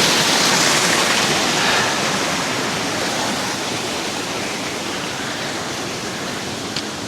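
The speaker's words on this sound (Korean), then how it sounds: "여기 보면 위에서 물이 시원하게 흘러내리고 있어요." Water pours down from above beside a mountain trail in Tiger Leaping Gorge, Yunnan, as a steady, loud, close rush of cascading flow with no voices.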